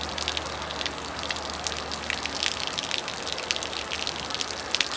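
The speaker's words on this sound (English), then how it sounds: "Spray some water in." Water sprays into the gas tank of a 1972 Datsun 240z, a steady hissing gush with scattered spattering and dripping throughout, close and continuous with no talk.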